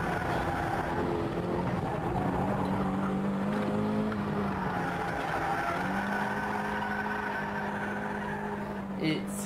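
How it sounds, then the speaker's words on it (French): Keiichi Tsuchiya's car drifting in 1987, a sustained engine drone with wavering pitch held steadily throughout, plus a faint squeal near the end; someone talks over it. "on le voit en train de mettre sa voiture de travers du futur"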